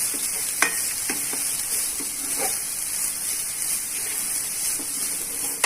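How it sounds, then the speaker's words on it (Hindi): Grated coconut frying in a pan for a Mangalore-style coconut banana fry, a steady bright sizzle with soft scraping stir strokes repeating every second or so, close and alone. "अच्छे से इसको स्टर करेंगे और हिलाते रहेंगे जब तक हमारे ये गोल्डन ब्राउन ना हो जाए"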